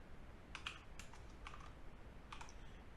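Code being typed on a computer keyboard, a light, quiet patter of clustered key clicks with short pauses over a low steady background hum, no talking.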